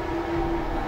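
Droning siren from the horror video game Forbidden Siren 2, a steady, loud, continuous tone over low rumble with no talking.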